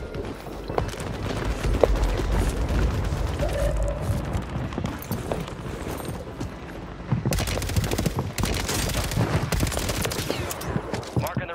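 Dense gunfire in Call of Duty on Rebirth Island, with continuous overlapping shots, clicks and footsteps and a sharper burst near the end, while players talk over the action.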